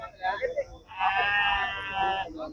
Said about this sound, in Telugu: ఇక్కడ వచ్చేసి పట్టుకుంటున్నారు గొర్రెలు